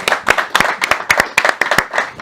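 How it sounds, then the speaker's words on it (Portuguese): A crowd claps for André at a Portuguese-language talk on the art of asking questions, giving a dense, quick round of applause with many sharp, overlapping claps that last the whole moment. "bate uma salva de palmas pro André"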